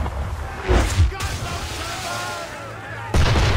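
Enemy gunfire aimed at a ship in Assassin's Creed 3, with loud booming bursts near the start and a renewed blast near the end over a steady low rumble of battle.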